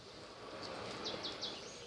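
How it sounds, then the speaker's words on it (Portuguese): Faint high chirps from a small bird, three quick notes in a row, over a steady wash of background noise. "ao som dos passarinhos, do seu canto"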